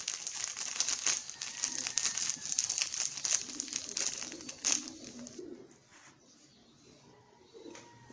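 Pigeons coo in a pigeon loft: soft throaty calls mixed with dense crinkling and rustling, fairly close, the activity thinning out and quieting toward the end.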